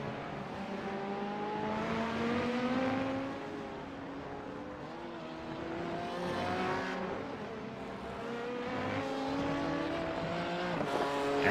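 A BMW race car in the iRacing simulator at Le Mans, its engine droning steadily with rising and falling pitch through gear changes, sustained and fairly loud throughout with no speech.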